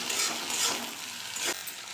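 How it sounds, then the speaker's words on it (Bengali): Chopped onions frying in oil as chopped tomato is added and stirred for a soybean curry, a loud continuous sizzle with scraping spatula strokes and a sharp scrape near the end. "এবার পেঁয়াজগুলো ভাজা হয়ে গেছে এবার আমি দিয়ে দেবো একটু টমেটো কুচি"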